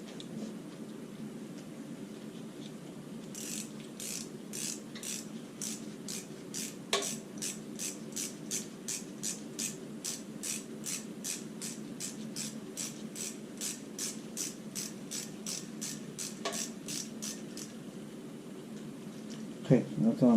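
A 3/4 inch ratchet clicks in a long steady run while tightening an 8mm bolt on a 2013 Dodge Durango 5.7 Hemi engine, the close, crisp pawl ticks fairly even with a brief pause midway.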